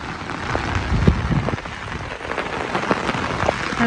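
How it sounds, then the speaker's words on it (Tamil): Steady wind-driven rain from a storm pours and patters on surfaces, a dense hiss with scattered heavier drops, moderately loud and continuous. "காத்தோட மழை"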